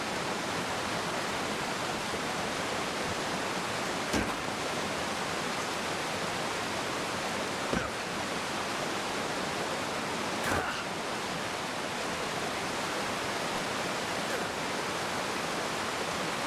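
A loud waterfall roars in a steady, unbroken wash of broadband noise, close and constant throughout with a few faint clicks.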